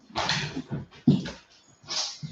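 A dog whimpers and yips in a series of close, loud, uneven cries during a home yoga session, right after its toy is taken away.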